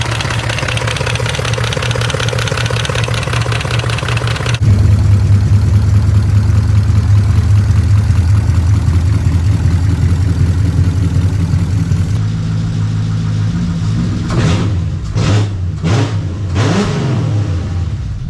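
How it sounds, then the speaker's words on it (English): A BMW M5 E39 V8 idles before and after a VANOS rebuild, its steady close engine drone shifting character between sections, then sharp revs swell and fall several times near the end, no voices. "this is how the VANOS sounded before and then after"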